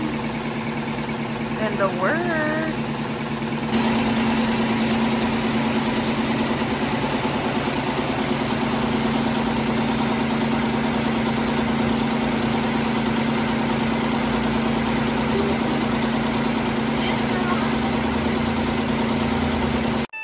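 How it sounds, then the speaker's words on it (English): Lamborghini engine idling nearby, a steady low rumble that holds at an even level throughout, with someone speaking briefly over it near the start. "I don't know if you guys are gonna be able to hear me, but that's the Lambo"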